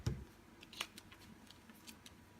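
Playing cards shuffled near a cockatoo, heard as a brief close riffle and a few light flicks and ticks with no talking.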